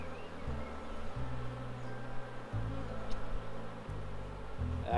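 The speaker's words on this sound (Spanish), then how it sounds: "Aquí hay abejas naciendo." Honey bees buzzing at an open beehive during an inspection, a dense steady hum close to the listener that holds throughout, with no talk.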